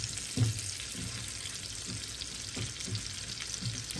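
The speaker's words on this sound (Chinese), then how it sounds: "我们可以把一些爱吃的这些配菜呢，都提前放到它边上一起煎啊。" Flounder pan-frying in a nonstick pan with garlic and side vegetables around it, a quiet, even sizzle punctuated by soft, rhythmic thuds of turning or nudging, close but fairly faint.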